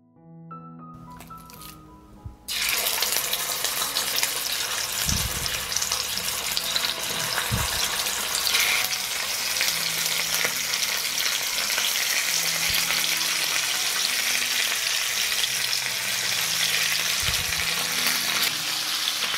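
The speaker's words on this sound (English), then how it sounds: "I will sear the meat for 2 minutes on both sides." Meat searing in hot olive oil in a pan, a loud, steady sizzle that holds for many seconds after a quieter start, with a few soft thumps of handling.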